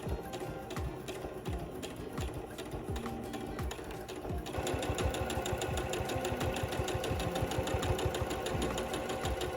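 Sewing machine stitching slowly in the ditch to attach bias tape around a Renaissance bodice, a close rhythmic mechanical knocking that speeds up and grows louder about halfway through.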